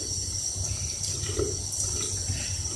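Water running steadily from a tap while a doll's hair is washed, giving a constant close hiss and splash with slight shifts in flow and no talking.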